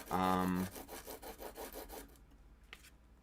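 Carbide tool being sharpened by hand, a loud tonal scrape at the start followed by a run of quicker rhythmic rasping strokes that stop, leaving near silence with one faint tick.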